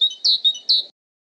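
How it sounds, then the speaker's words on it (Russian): A tit chirps alone and close by: a few bright, high, quick chirps within about a second, followed by silence. "Синица."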